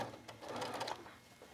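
A sewing machine stitches bias trim on a garment edge, a brief, quiet, rapid mechanical whir of needle strokes that slows at the end as the stitch is backed up.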